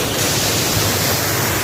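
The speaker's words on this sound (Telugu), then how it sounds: "సో అవి కొమరం భీం వాటర్ ఫాల్స్." Komaram Bheem waterfalls near Asifabad, fed by dam gates, roar as a steady broadband rush of falling water, loud and continuous with no voices.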